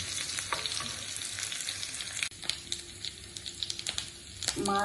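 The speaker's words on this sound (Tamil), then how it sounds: "சின்ன வெங்காயம், பச்சை மிளகாய், பூண்டு, கருவேப்பிலை இது நல்ல கலர் ஆகிற நல்லா வதக்கும்" Shallots, green chillies, garlic and curry leaves sautéing in a pan for lamb brain fry, with a close crackling sizzle and repeated scraping stirs and a brief clatter near the end.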